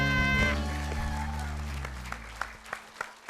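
A crowd applauds a performer at a studio comedy variety show. The clapping is broad and steady under a fading musical chord, then thins to a few sharper, scattered claps at the end.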